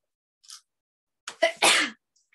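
A single person's sneeze, faint sharp intake followed by a loud burst, in an indoor preschool circle-time setting, clear and close with no talk.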